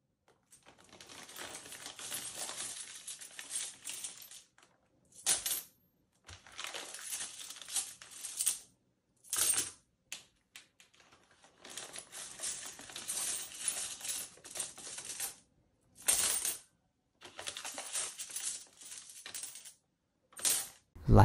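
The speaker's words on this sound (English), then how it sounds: "I made this sound effect by dropping a few coins into a coin bag." A few coins are dropped into a cloth coin bag, recreating a medieval purse as a game sound effect: repeated close jingling, clinking bursts separated by silent pauses.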